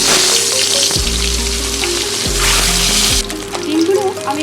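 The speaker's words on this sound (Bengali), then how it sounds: "এবারে ডিমগুলোকে আমি ভেজে নেব।" Eggs fry in hot mustard oil in a wok, giving a loud, close, continuous sizzle and spatter throughout, while a voice talks over it.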